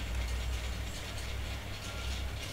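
A handbrake ratchet on a 2017 Bentley Continental Supersport in the racing game Forza Horizon 3 gives a continuous mechanical clicking rattle, steady and fairly faint over a low engine hum.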